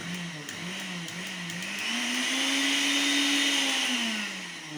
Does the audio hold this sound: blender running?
yes